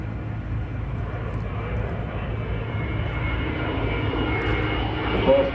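Airbus A350-900 airliner taking off steeply at Farnborough International Airshow 2022, a steady, fairly subdued distant jet roar that builds slightly, without talk.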